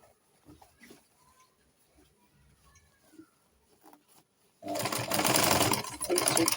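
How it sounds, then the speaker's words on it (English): Sewing machine back stitching a flounce sleeve, starting up abruptly after quiet handling noises and running fast and loud for about two seconds with a brief pause. "Just to quickly take it to our sewing machine now. Let's place it this way now to back stitch."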